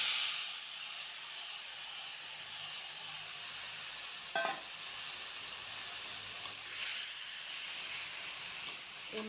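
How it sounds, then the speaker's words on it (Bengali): Tiny kechki fish hiss faintly in a hot wok, a steady soft sizzle with a few small clicks and taps. "কড়াই বসিয়ে দিয়েছি, এখন মাছগুলো দিয়ে দেব।"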